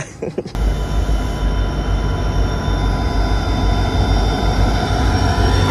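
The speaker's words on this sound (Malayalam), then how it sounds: "കല്യാൺ ഡീസൽ ലോക്കോ ഷെഡിൻ്റെ ഒരു WDP4D ആണ് ഈ ടുറ്റാരി എക്സ്പ്രസിനെ കൊണ്ടുവരുന്നത്" A Kalyan-shed WDP4D diesel locomotive hauling the Tutari Express rumbles past with a steady, loud low roar and rattling wagons, continuous throughout after a brief sharp onset.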